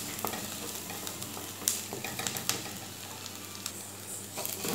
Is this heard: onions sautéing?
yes